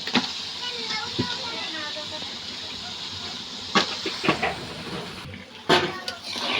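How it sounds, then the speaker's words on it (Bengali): Beef goes into hot, oil-rich masala and sets off a continuous sizzling hiss, broken by several sharp clatters of utensils, while someone speaks. "এখন আমি এর মধ্যে মাংসটা দিয়ে দিচ্ছি"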